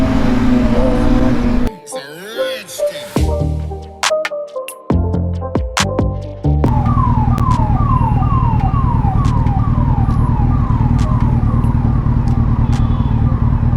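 An ambulance siren wails in Indian city traffic, its repeating rising-and-falling sweeps loud and steady for several seconds, mixed with the rumble of road vehicles and a loud ZX6R sportbike engine.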